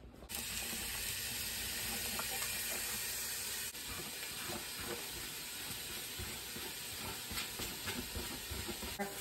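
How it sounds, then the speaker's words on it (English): Freshly chopped onions hitting hot oil in a soup pot, giving a loud, continuous sizzle and hiss with some clinking of a utensil as they are stirred, with no voices. "Freshly chopped onions into a pot or a pan with sizzling oil, and then stirring it around."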